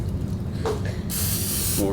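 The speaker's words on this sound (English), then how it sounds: "Can you spray that on me?" A spray can lets out one sharp, sustained hiss of under a second, close and loud, with a voice speaking around it.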